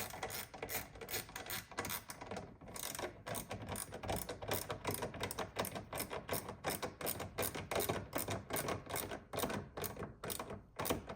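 A fastener on a Tesla Model Y taillight is turned clockwise with a ratcheting tool, giving a fast, even string of faint, close, crisp clicks that runs steadily throughout.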